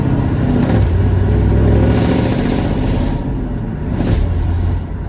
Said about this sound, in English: So we're gonna go into first. We'll take off down this road, and then we'll downshift and slow down.